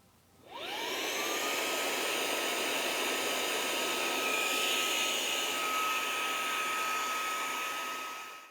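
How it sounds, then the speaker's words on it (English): An air pump starts up and runs continuously, inflating a FlowStop single-chamber plug with a loud, steady whooshing drone and a rising whine that settles into an even pitch, close and alone. "we're going to start the pump and we're going to pump it up to half to 1 psi"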